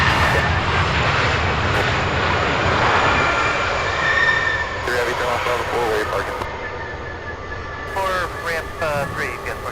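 A jet aircraft rumbles loudly at night at Louisville's SDF airport, a broad roaring wash that slowly fades. Voices talk over the second half.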